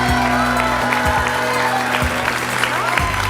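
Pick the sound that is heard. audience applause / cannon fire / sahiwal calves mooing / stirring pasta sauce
audience applause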